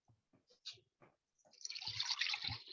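Water poured or running in a kitchen, a fairly loud rushing splash in the second half that follows a few faint scattered knocks and handling sounds.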